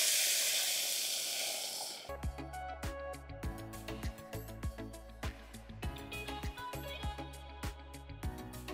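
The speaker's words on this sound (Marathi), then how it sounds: "यात आपल्याला पाणी घालायचं आहे" Hot water poured into sizzling fried dal and rice for khichdi, a loud hiss that fades over two seconds, then settles into bubbling simmer with regular pops close by.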